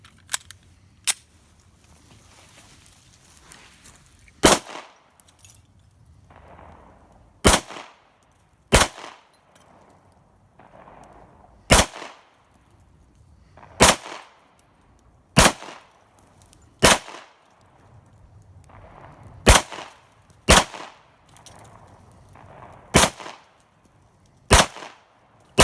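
A CZ P07 pistol fires Winchester white box full metal jacket brass-case rounds: about a dozen sharp, loud shots at an uneven pace with short gaps between them, and no talking.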